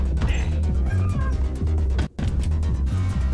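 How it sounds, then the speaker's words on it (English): A cat meows in the Max Payne video game, a thin wavering cry rising over steady rhythmic low music and game ambience, with a brief cut in the middle. "Sounds like a cat."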